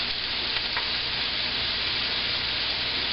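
Scallops sear in a hot pan with a steady, dense sizzle that holds level throughout, close and fairly loud, no voices.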